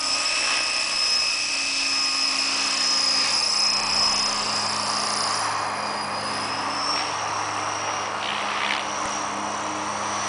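A Flasher 600E Sport RC model helicopter with a Phoenixtech DT5035 1000kv motor and SR100A ESC, running negative pitch in flight, gives a steady, loud high-pitched whine and rotor drone that holds throughout with slight pitch shifts.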